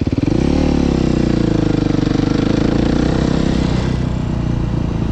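Motorcycle engine during wheelie practice, loud and close, with a throttle blip at the start settling into a sustained, rough, pulsing drone with a slight dip near the end.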